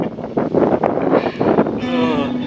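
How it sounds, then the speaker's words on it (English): Wind buffeting a microphone while kayaking on Canadice Lake, a steady rumbling roar that persists for the whole stretch with brief voices and a faint tonal hum near the end. "Here I am getting blown by the wind again."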